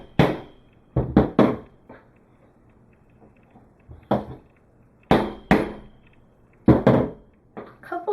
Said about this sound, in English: Grab a punch and a hammer.